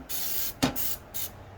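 Easy-Off oven cleaner is sprayed onto a baked-on, greasy surface in a few short hissing bursts from an aerosol can, close by and fairly quiet, with no talking.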